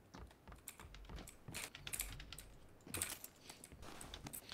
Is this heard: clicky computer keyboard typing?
yes